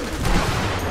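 A loud burst of gunfire fills the whole clip, dense and sustained with a heavy low-end boom, like a sniper rifle shot in the noisy battle of Sniper Elite V2.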